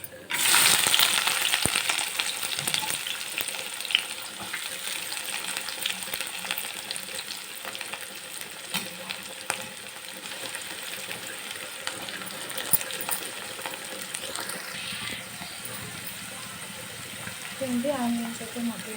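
Chopped onions fry in oil with cumin and mustard seeds, giving a loud, close, continuous sizzle with occasional stirring clatter throughout.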